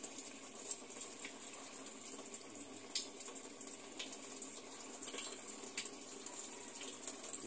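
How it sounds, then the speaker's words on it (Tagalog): Water rushes through the inlet valve into a Samsung Activ Dual Wash automatic washing machine, a faint, steady hissing flow with occasional soft drips and no speech. "So malakas yung tubig natin."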